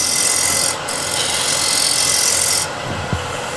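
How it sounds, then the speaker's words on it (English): Close, continuous rasping scrape of a negative rake scraper cleaning a wooden workpiece, a steady dry hiss with slight changes in texture and a small knock near the end. "Now I can do something similar using the negative rake scraper."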